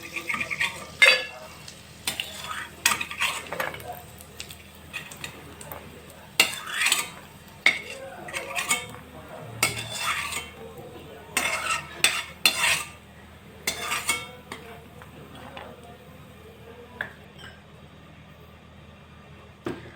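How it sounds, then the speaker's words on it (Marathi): Fried snacks for a traditional Nag Panchami offering are lifted from the pan onto a plate, with irregular clinks and scrapes of a metal utensil close by, separated by quiet gaps. "आता हे फ्राय झाले आपण हे काढून घेऊ एका प्लेटमध्ये"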